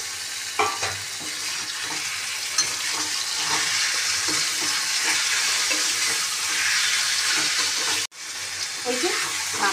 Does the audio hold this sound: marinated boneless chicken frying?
yes